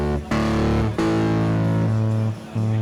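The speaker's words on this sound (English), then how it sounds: "if I turn on the distortion" Piano notes pushed through a MÖG 4-band distortion effect from DPW Design, producing a buzzy, saturated sustained tone that shifts pitch across a few held chords and cuts off briefly between them.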